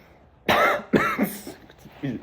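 A woman gives a demonstrative, exaggerated cough, a sequence of several sharp, close coughing bursts with throat-clearing sounds, loud and isolated with short pauses between them.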